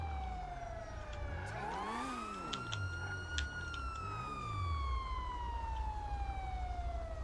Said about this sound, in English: Turn your sirens off.